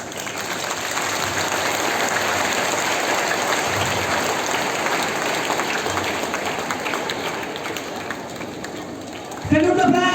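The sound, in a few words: applause at independence day flag hoisting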